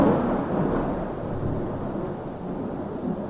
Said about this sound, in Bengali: জোরে জোরে বাজ পড়ছে এখানে